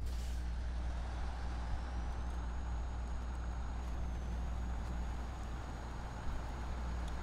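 A heavy truck in the video game SnowRunner grinds through mud with a steady, deep engine drone throughout, while a thin rising whine runs along above it.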